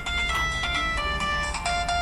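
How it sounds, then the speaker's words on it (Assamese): A mobile phone rings with an incoming call, a bright repeating electronic ringtone melody in quick pulsing notes, clear and steady over a low background hum. "তই ছাৰে ফোন কৰিছে"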